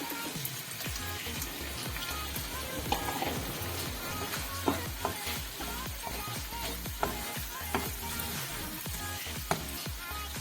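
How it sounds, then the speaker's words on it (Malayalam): Eggs fry in a spiced masala for egg roast in a pan, giving a steady close sizzle with scattered stirring clicks and pops throughout, no talking. "ഇനി നമുക്കിതിലേക്ക് മുട്ട ചേർത്ത് കൊടുക്കാം."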